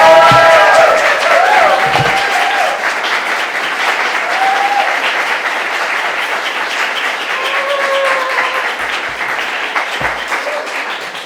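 Sustained, loud applause from an audience after a poetry reading at an open mic night, filling the whole stretch with dense clapping and a few brief higher whoops.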